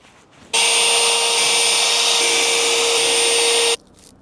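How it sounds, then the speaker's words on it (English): A power drill runs for about three seconds, boring holes to mount heavy-duty swing hardware on a wooden kids' playhouse. It is a loud, steady, high-pitched whine that starts and stops abruptly, with no talking. "so I'm gonna put them up and drill"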